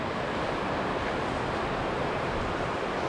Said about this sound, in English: It's pouring again.